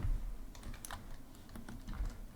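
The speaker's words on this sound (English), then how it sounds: "with some keyboard noises and some mouse noises" Rapid clicking of computer keyboard keys during gameplay, picked up by a desk USB microphone, with irregular bursts of keystrokes, fairly close and alone without speech.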